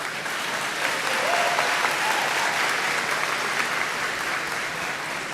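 A church congregation applauds at Sunday Mass, a dense, steady wash of clapping from many hands that fills the space evenly for several seconds without pause.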